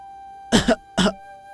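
A man coughing as he comes to after nearly drowning: two short, close, harsh bursts about half a second apart, the first breaking into a double hack, in a quiet room.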